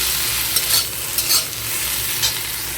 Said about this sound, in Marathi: त्याच्यात आता मी टाकणार आहे टोमॅटो लसूण आणि आलं छान परतून घ्यायचं